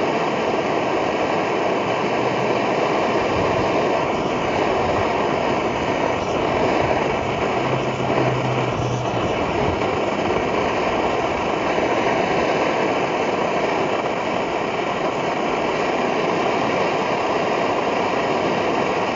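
A kerosene stove burner roars steadily after a hybrid start-up routine, a loud, constant rushing hiss and rumble like an engine held at idle, running without a break through the whole stretch with no talking.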